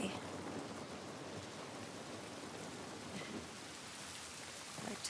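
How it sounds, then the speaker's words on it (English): Steady rain falls in The Last of Us on PS5, a dense even hiss of drops on surfaces throughout, soft and constant with no talking. "This rain ain't gonna do us any good."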